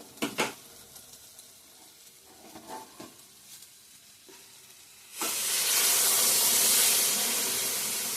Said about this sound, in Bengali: এখন গরম জল অ্যাড করে দিয়ে দেব